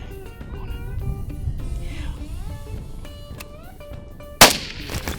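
A single sharp rifle shot during an outdoor hog hunt, loud and sudden after quiet field ambience with birdsong, followed by a fading echo.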